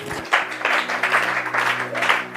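A church congregation applauds in a loud, continuous wash of clapping that rises and falls in waves, with a steady tone underneath.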